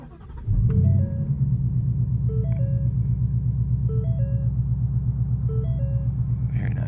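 A 2018 Ford Mustang GT V8 fires up with a loud cranking burst, then settles into a steady, deep burbling idle close by, with faint electronic chimes repeating in the background.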